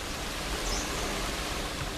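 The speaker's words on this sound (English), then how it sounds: "The sound of millions of butterflies fluttering through thin sunlight." Millions of monarch butterflies flutter together in a Mexican mountain forest, forming a soft, constant rustling hiss that is faint and even, with no voices.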